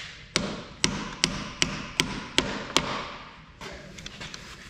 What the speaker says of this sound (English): Oh, I see I need a hammer.